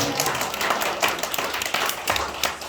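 A church audience at a worship testimony concert gives a brief round of clapping, with individual claps audible in an uneven, moderately loud patter.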